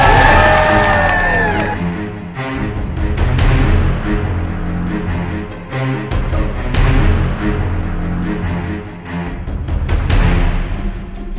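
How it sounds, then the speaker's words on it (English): Crowd at the Derry Halloween event cheering loudly after a fading musical tone, shouts and whoops rising and falling in waves over several seconds, with scattered voices mixed in. "Give them a cheer!"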